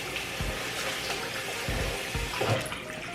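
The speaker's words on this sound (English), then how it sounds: "I'm going to rinse them a little bit here." Tap water running into a kitchen sink to rinse black-eyed peas, a steady, moderate splashing rush with a few soft knocks and no talking.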